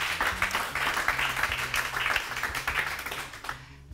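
Audience applause for Ivana Di Martino's first book during a live Italian talk event on sport, steady dense clapping for about three and a half seconds before fading out, with a low hum beneath.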